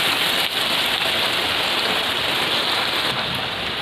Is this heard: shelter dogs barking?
no